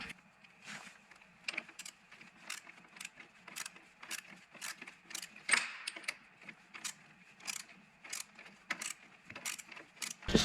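Torque wrench tightening the front engine mount bolts on a Harley-Davidson motorcycle, a steady run of close, sharp ratcheting clicks repeating at an even rhythm, with faint workshop noise in between.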